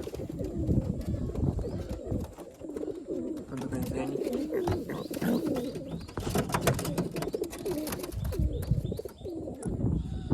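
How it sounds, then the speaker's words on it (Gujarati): Pigeons coo repeatedly at close range in a small loft setting, their soft throaty calls running steadily alongside chirps while someone talks intermittently over them. "કબૂતર છે એક, બંને કબૂતર છે"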